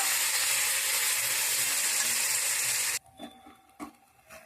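Spinach paste cooking in a hot pan gives a loud, dense, close sizzle for about three seconds, then cuts off abruptly, leaving a few soft scraping clicks.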